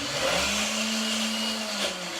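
A blender whirs steadily while blending vegan spinach artichoke dip, its motor note holding a constant pitch up close for about two seconds and then dipping slightly at the end.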